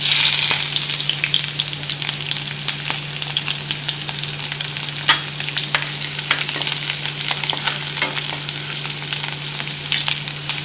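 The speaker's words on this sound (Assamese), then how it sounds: "তো মেগীটো ফ্ৰাই কৰোঁ এনেকৈ।" Maggi instant noodles fry in a pan with a steady, loud sizzle throughout, broken by occasional stirring clicks, with no talking.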